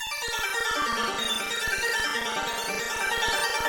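Trap beat pitched up seven semitones with Gross Beat chopping, giving a bright, busy loop of rapid stuttering gated hits over sustained tones, steady and fairly loud throughout.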